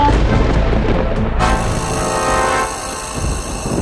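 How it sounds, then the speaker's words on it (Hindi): A loud, sustained horn-like blare resembling a railway announcement chime, filling the clip with a thick steady tone that shifts partway through and then eases slightly toward the end. "महेश बेटा, तू चोर को भगा रहा है या रेलवे की अनाउंसमेंट कर रहा है?"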